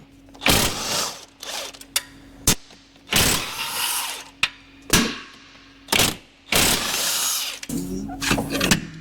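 Bolts being undone on the chassis of a Land Rover TD5 during a strip-down, heard as repeated loud bursts of a ratcheting or powered tool, each lasting about a second, separated by brief pauses and several sharp metallic clicks.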